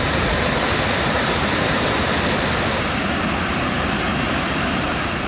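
A flooding waterfall at Kumbakkarai falls in Theni district, a loud, steady, dense roar of rushing water that fills the whole clip without any talking.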